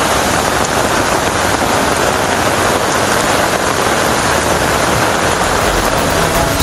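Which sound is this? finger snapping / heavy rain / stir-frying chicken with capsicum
heavy rain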